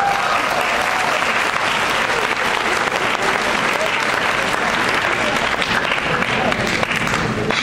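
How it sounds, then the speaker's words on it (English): A packed room of high school students applauds loudly and continuously at a Black History Month celebration. The dense, sustained clapping fills the whole stretch without letting up. "Let's give a round of applause."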